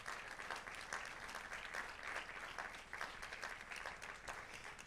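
A church congregation gives the Lord a strong round of hand claps, a steady, fairly quiet wash of many hands clapping throughout without a break.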